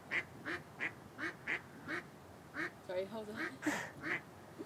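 Ducks quack in a quick series of short, nasal calls close to the recorder, about a dozen in a loose rhythm, with a person briefly speaking over them near the end.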